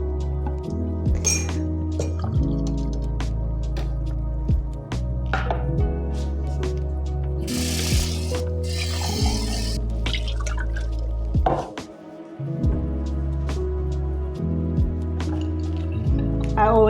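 Kitchen utensils are washed up after making almond milk: repeated close clinks and clatters of tools, with running and dripping water, over a steady tonal background.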